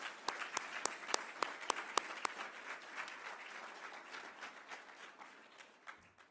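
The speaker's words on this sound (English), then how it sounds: "Big round of applause to each of you as well." Scattered audience applause at a Veterans Day celebration at Florida State University Panama City, honoring junior ROTC cadets; a few sharp, distinct claps stand out early over a softer crowd patter that thins out, fairly quiet and distant.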